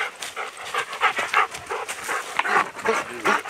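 Dogs panting at a wall tent camp kitchen, rapid rhythmic huffing close up and loud, with a few brief vocal sounds mixed in.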